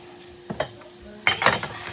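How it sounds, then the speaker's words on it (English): Onions stirred in a frying pan with a spatula: a couple of soft scrapes, then a louder stretch of close sizzling and stirring clatter. "Yep, you're going to stir the onion"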